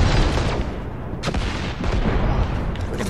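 A scorch cannon firing in a sci-fi shooter game, a loud, dense roar of heavy blasts with one sharp burst standing out midway, continuous and close.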